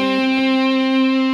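Electric guitar run through effects pedals with echo, a sustained distorted tone ringing with rich layered harmonics and a few short picked accents, loud and alone with no talk.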